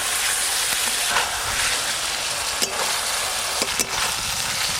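Dried fish frying in a pan with water added, a dense, loud, continuous sizzle and hiss close up, with a few sharp clicks and scrapes from stirring.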